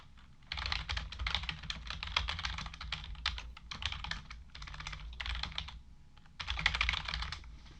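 Rapid typing on a computer keyboard, close and fairly quiet, comes in several bursts of dense clicking separated by brief pauses.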